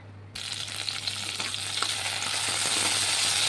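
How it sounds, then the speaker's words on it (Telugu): Green chillies hit hot oil with a sudden burst after a brief quiet moment, then crackle and sizzle steadily and loudly up close, growing slightly fuller, with no voices. "ఈ ఆయిల్ వేడెక్కిన తర్వాత ఇప్పుడు పచ్చిమిర్చి దొండకాయ కలిసి వేపుకుందాం"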